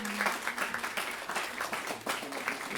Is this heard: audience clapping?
yes